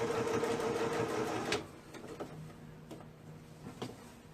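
A sewing machine stitches over a bulky side seam in thick fabric with a close, steady mechanical whir for about a second and a half, then stops, leaving faint clicks and handling taps.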